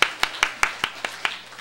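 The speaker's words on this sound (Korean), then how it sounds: "우리의 승리를 주신 하나님께 감사의 박수" Congregation applauding in a church service in thanks to God: a steady run of sharp, evenly spaced claps, about five per second, close and fairly loud with no talking.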